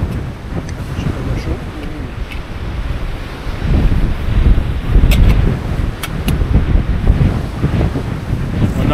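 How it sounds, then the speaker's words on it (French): Strong gusty wind buffets the microphone on Baskatong Lake in a storm, with waves and surf washing steadily underneath; the roar swells louder around the middle of the clip. "Un vent de 14-15 avec rafale à 25."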